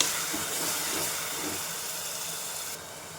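Tomato puree hitting sautéed onions in a pan for rajma masala, giving a steady, close hiss of sizzling that fades slightly toward the end, with no talking.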